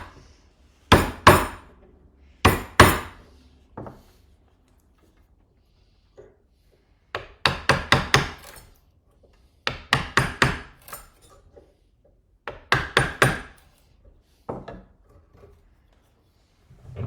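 A hammer taps repeatedly on violin-making tools set against wood, striking in quick clusters of three to five sharp, loud knocks separated by pauses of silence.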